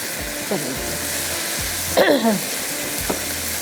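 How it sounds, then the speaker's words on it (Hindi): Green chili keema masala fries on a high flame, a steady close sizzle throughout with scraping stirring strokes and a few clanks of the pan, under someone talking. "बस हाई फ्लेम पे आपने इसको भुनाई कर लेनी है।"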